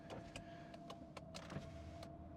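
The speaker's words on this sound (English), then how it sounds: "windows all go up and down" Electric power windows on a 1989 Mercedes-Benz 420 SEL run with a steady faint motor whine, broken by small clicks and knocks as the glass travels, with no talk.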